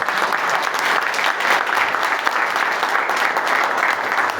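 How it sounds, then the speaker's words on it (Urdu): Steady, sustained applause from a church congregation during a sermon, dense clapping filling the space continuously at fairly loud level without any break. "تالیاں کھول کے مارو ہے"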